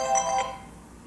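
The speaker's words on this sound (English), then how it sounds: "The phone rings." A telephone rings once in a home workout space, a short electronic warble that fades after about half a second, faint and alone with no talk.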